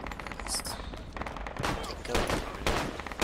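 Gunfire rattles through a Project Reality match in bursts of sharp rifle and machine-gun shots, some near and loud, others farther off, with players talking over the shooting.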